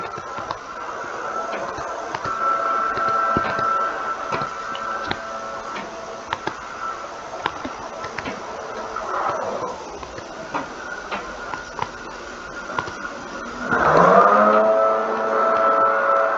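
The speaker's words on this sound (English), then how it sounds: "it sounds like somebody's outside using lawn equipment" Lawn equipment runs somewhere outside with a distant, steady motor drone, broken by faint ticks and clicks, before the engine swells and revs louder near the end.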